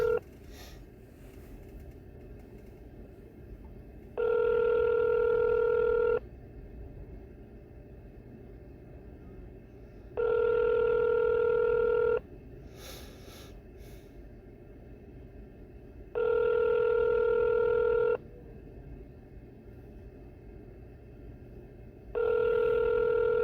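Outgoing telephone call ringing back, a steady electronic ring tone repeating in long bursts about every six seconds over a low line hum.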